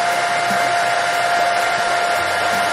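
A hair dryer runs steadily at close range for a few seconds, blow drying a braided wig during installation, with a constant airy roar and a faint whine and no talking.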